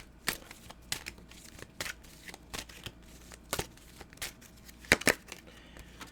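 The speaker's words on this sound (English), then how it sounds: "cannot shuffle these cards" Soft, scattered tarot card-shuffling flicks and rustles nearby, irregular and fairly quiet, with a couple of sharper snaps toward the end.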